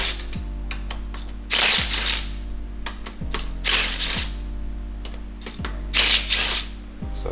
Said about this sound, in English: Now we're going to take the handlebar bolts out